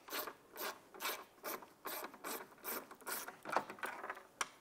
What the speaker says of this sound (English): use a T25 Torx bit with an extension. Go ahead and remove this screw right here.